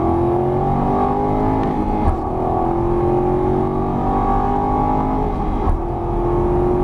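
An Aston Martin on a racetrack accelerates hard, its engine droning loud and steady with pitch climbing gradually across the whole stretch, close and continuous with no voices.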